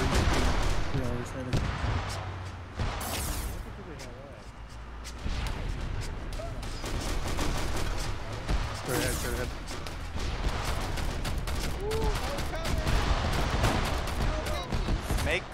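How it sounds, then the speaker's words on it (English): Gunshots in a military game: dense, continuous crackle of rifle and machine-gun fire, near and distant, running throughout with booming impacts, mixed under radio chatter and voices talking. "There's shots behind us as well."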